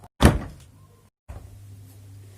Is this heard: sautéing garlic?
no